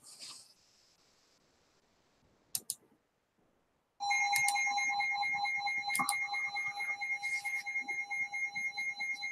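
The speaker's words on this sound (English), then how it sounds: "that's my emergency alarm" An emergency alarm bursts in loud and near after a quiet stretch and a couple of sharp clicks, holding a piercing, steady electronic tone that pulses rhythmically.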